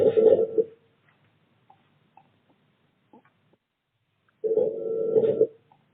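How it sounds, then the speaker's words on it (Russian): Ringback tones sound on a phone call, two long droning beeps separated by a few seconds of near silence. "Так, гудки пошли."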